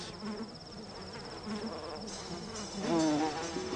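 A swarm of bees buzzes steadily nearby, the drone swelling louder toward the end; a colony of thousands of bees.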